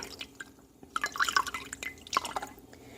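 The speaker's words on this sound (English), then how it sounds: "You just pour the water right over the top, get it, coat it all over, a whole cup of water here," A whole cup of water is poured over a face coated with primer, giving close, irregular drips and splashes that patter unevenly for a few seconds.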